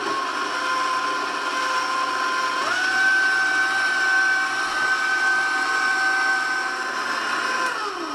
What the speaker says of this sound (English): we're going to be mixing this for about 3 minutes until the sugar is dissolved